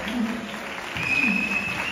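Audience applause at a Pongal cultural event with children performers, a dense continuous patter of many hands clapping that swells slightly toward the end.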